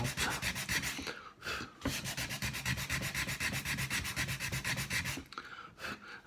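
Hand sanding of glued wood to clear excess sawdust and glue: quick rhythmic back-and-forth scratchy rubbing strokes, close and steady, with two brief pauses.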